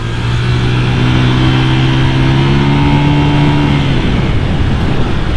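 A Honda Vario 180cc scooter with a standard exhaust riding along, a loud, steady engine drone with a rising then falling tone as it accelerates and eases off, with heavy wind rush and no talk.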